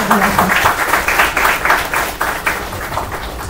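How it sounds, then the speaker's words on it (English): An audience at a hackathon grand finale in Bangalore applauds the panelists in a loud, close burst of clapping with a rhythmic pulse, easing slightly toward the end. "a huge round of applause to our panelists"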